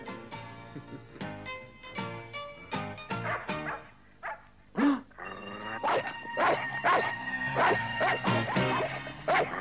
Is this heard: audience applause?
no